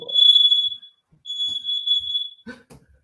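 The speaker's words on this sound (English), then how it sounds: "Smoke alarm went off." A smoke alarm with a low battery sounds two long, steady high-pitched electronic beeps, separated by a short gap, fairly clear indoors, followed by a few faint scuffs.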